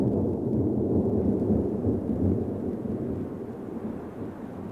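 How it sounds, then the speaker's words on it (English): Deep thunder from a tropical thunderstorm rolls and rumbles continuously, loud at first and slowly fading, with a faint hiss of rain beneath. "A tropical thunderstorm in the catchment area pours millions of liters of water into the river."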